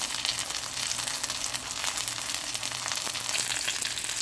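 Turkey burger patties fry in a pan with a steady, bright sizzle and crackle that holds level and close throughout, with no talking.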